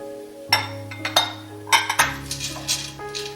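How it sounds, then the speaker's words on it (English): Less than half a bag of peas is dumped into a pan of ham fettuccine, making a close rattling clatter of small clinks with a ringing metallic pan tone, in a few bursts. "I'm going to dump some peas in here"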